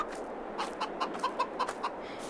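Chickens in the Farming Simulator 22 farm game cluck in a quick run of about eight soft, close calls over a low background hum.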